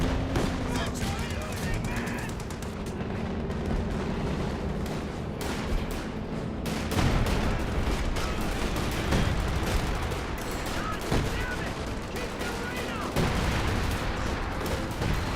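M1919 machine guns fired by paratroopers in a Company of Heroes 2 battle, dense rattling bursts mixed with explosions and artillery booms, loud and continuous, with a caster talking over the fighting.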